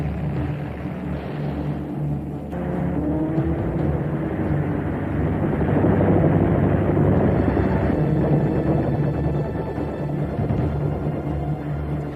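Propeller fighter planes, a Spitfire and an ME-109, in aerial combat over 1940 skies: a continuous loud engine drone swelling and roaring steadily throughout, with no voices.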